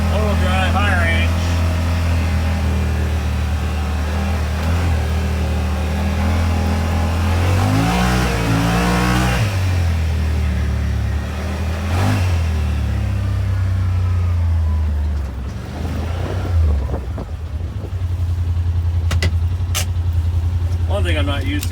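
Engine of a side-by-side UTV, a 2020 Polaris General XP or 2021 Yamaha Rmax, running in all-wheel drive high range on dirt and mud, a steady loud drone that revs up around the middle and again near the end, with a voice speaking over it.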